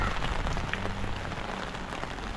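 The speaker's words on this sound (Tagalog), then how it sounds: "sobrang lakas ng ulan guys" Heavy rain pours down in a steady, dense hiss with scattered drops pattering on a surface, loud and close throughout with no voices.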